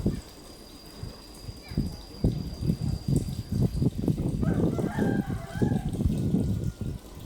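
A rooster crows and a chicken clucks amid outdoor background noise, with people talking nearby.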